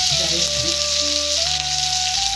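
Curry leaves dropped into hot oil in a pan while cooking dry fruit and nut rice: a steady, loud hiss of frying throughout, with a faint tonal hum underneath.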